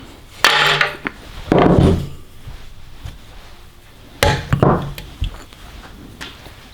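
Wood braced against a bike bearing is hammered to drive it out, giving a couple of bursts of quick, close, hard knocks separated by quieter pauses.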